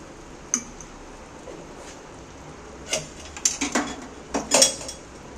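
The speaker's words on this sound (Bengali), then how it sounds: "এখানে আমি এক চামচ গাওয়া ঘি ব্যবহার করছি" Spoon clinking against a pot while a spoonful of ghee is added to a rice and pointed gourd dish, with one sharp tap early and then a cluster of metallic scrapes and knocks.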